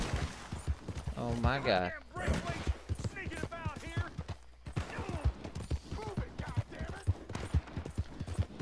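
Gunfire crackles in Red Dead Redemption 2: sharp shots ring out in scattered bursts beneath near-continuous talking voices, with some hoof-like thuds mixed in.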